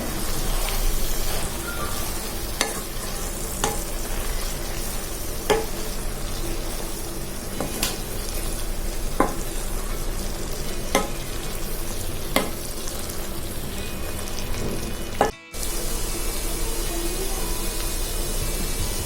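Bread pieces sizzle and fry in sauce in a pan for bread upma, with steady crackling and occasional sharp clicks of stirring against the pan, close and continuous.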